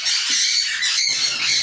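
Parrot squawks in a continuous harsh, shrill stream lasting under two seconds, close and loud, recorded at a relative's home in Kanyakumari, with no talking.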